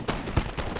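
Chasseurs' musket volleys in Napoleon: Total War, a battle game; a couple of dull, scattered shots sound at mid distance over a steady battlefield rumble, with no talk.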